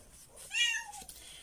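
A cat meows once off to the side, a single clear rising-and-falling call standing alone against a quiet room.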